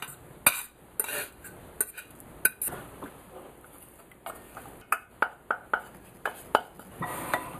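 A utensil stirs and combines ingredients in a bowl for a baked fish roll filling, with a steady run of close metallic clinks and scrapes against the bowl and no voices.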